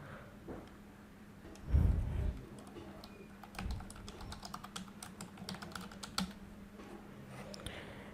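Light typing on a computer keyboard while editing a button's text on a web page: scattered soft clicks and taps, quiet and close, with one louder thump near the start.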